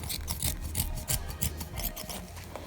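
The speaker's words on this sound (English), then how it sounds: "I'm cutting the excess fabric" Scissors snip through the excess fabric of a sewn scrunchie headband in a quick run of close, rasping cuts, steady and loud with no voices.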